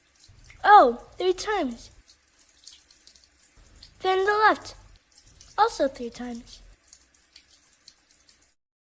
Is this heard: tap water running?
yes